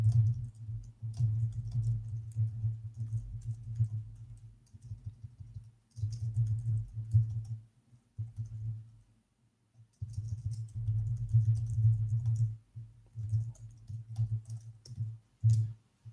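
Computer keyboard typing during a live developer Q&A session, with close, steady bursts of clicking that pause briefly around the sixth and tenth seconds and then resume.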